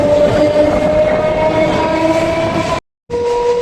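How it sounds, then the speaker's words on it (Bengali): A local train on the Sealdah–Diamond Harbour line in West Bengal runs past close by with a loud rumble and a sustained horn tone, then cuts off abruptly for a moment before the rail noise resumes. "লোকাল ট্রেন ছুটে চলেছে"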